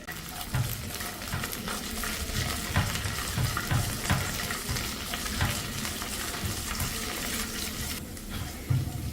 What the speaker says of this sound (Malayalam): രണ്ട് ടേബിൾ സ്പൂൺ വീതം കാഷ്നട്ടും കിസ്മിസും എടുത്തിട്ടുണ്ട് ഇതൊന്ന് ഇട്ടിട്ടൊന്ന് വഴറ്റിയെടുക്കാം